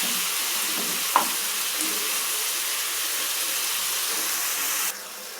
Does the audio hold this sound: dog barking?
no